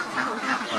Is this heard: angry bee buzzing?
no